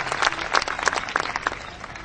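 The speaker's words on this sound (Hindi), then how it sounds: "जोरदार तालियों से अभिनंदन" Steady applause from a crowd, a dense patter of many hands clapping at moderate volume throughout.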